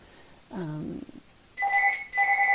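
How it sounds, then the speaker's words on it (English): A telephone rings in two bursts, each a steady electronic double tone, after a short hum-like voice-free murmur earlier; clear and fairly close in a quiet room. "There's the phone, of course."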